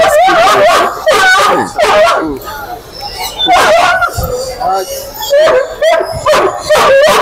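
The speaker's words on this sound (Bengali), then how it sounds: "আমার কিন্তু বাংলাদেশি কুকুরও আছে" A dog barks, yips and whimpers in repeated bursts, close and loud, with a person talking in between.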